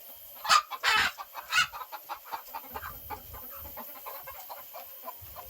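A few loud hen clucks up front, then a steady run of softer, rhythmic clucking continuing throughout, fairly close by at a chicken coop.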